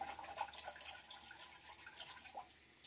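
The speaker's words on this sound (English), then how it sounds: "And now I'm just rinsing the brush in the bowl" A shaving brush is rinsed in water in a bowl, giving soft, faint splashes and drips in a gentle, irregular rhythm, close and quiet.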